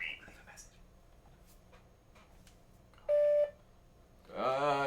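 An answering machine beep sounds once as a steady electronic tone, close and loud, after faint whispering and rustling, followed by a voice beginning to speak.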